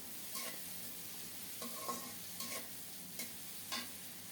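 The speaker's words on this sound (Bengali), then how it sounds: "এখন সরিষার তেলে বরবটি শিম চার পাঁচটা কাঁচামরিচ আর কয়েক কোষ রসুন দিয়ে দিলাম" Yardlong beans, green chilies and garlic cloves sizzling in mustard oil, a low steady fry broken by several quiet scrapes of stirring in the pan.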